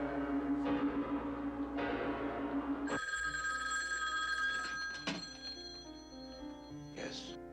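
An old telephone bell rings in a film scene, a steady repeating metallic trill that starts loud and clear, then briefly stops and resumes, with voices and background sounds mixed around it.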